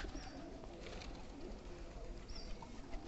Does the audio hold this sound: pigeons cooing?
yes